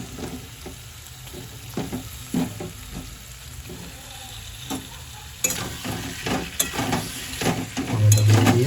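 Tomatoes hit a hot pan for chicken bharta and are stirred, giving a steady close sizzle broken by scraping spoon strokes and occasional clinks against the pan, growing louder near the end.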